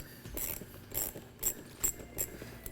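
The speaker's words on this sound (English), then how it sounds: "Use a 10mm socket to get this pulled off." A ratchet with a 10mm socket loosens the negative battery cable on a 2007-2018 Jeep Wrangler JK, giving five or six short, crisp clicking bursts at a steady pace, up close and fairly quiet.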